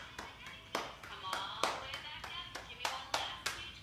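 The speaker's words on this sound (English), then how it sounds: "Clap for your toes" Children in a kids' yoga class clap their hands about a dozen times at a steady, fairly brisk rhythm, crisp and close, with faint voices in the background.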